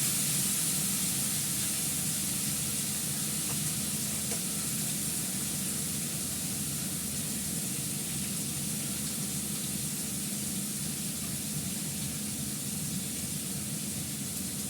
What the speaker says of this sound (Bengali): এবার আলুটা পেঁপেটা দিয়ে দিলাম, আদা কষিয়ে রাখি।